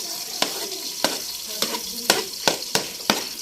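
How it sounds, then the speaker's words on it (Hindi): Onions tossed into hot oil in a village home kitchen, a steady close sizzle punctuated by about eight sharp spatula scrapes and clinks at an even, quick rhythm, with no voices over it. "ऑयल गर्म हो गया तो अभी हम जल्दी से डाल लेते हैं इसके अंदर प्याज"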